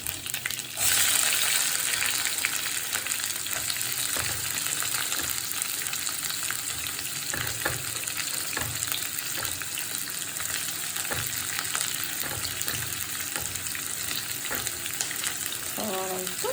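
Onions fry in hot coconut oil with mustard seeds and curry leaves for a quail egg roast, giving a loud, dense sizzle with scattered crackles and pops that continue unbroken and close up for the whole stretch.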